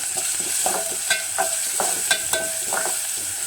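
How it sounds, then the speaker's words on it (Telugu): Onions sizzle steadily in a hot pan for a Telugu flour rasam, with a spoon stirring and scraping in a repeated rhythm over a constant frying hiss. Close by, with no talking. "ఉల్లిగడ్డ వేసుకుందాం ఇట్లా ఉల్లిగడ్డ మగ్గుతున్నప్పుడు"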